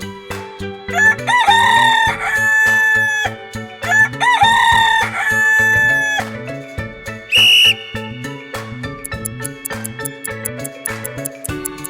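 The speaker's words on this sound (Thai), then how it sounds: "ไก่" A rooster crows in a Thai-language children's word game, its call heard once as a bright, wavering cry amid bouncy synthesized music, whistle-like melody lines and rhythmic plucks, with no speech.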